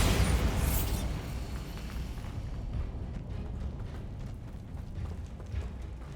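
A Bombarda blast spell goes off in Hogwarts Legacy, a loud booming burst at the start that dies into a rumbling, crackling tail lasting several seconds.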